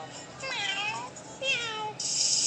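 A cat gives two drawn-out meows in quick succession, clear and close, with a brief hiss of noise at the end.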